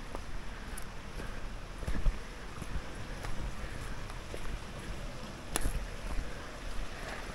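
Steady broadband rush of flowing water all around at Gut Pollen, with gusty wind buffeting and occasional soft knocks, no voices.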